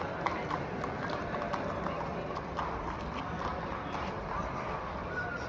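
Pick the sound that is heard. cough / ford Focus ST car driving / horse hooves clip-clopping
horse hooves clip-clopping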